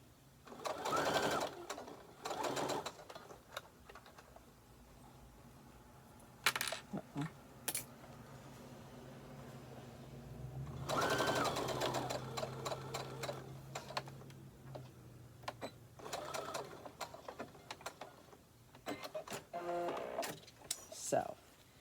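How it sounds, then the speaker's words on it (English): A sewing machine stitching a fabric zipper pouch runs in several short whirring bursts separated by pauses, with someone talking softly between and over the stitching. "now I'm sewing really close to the end"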